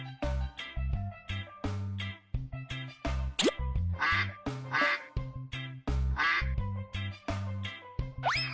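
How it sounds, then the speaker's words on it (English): Duck quacks repeat again and again over a steady, rhythmic backing tune, each quack loud and close. "Duck."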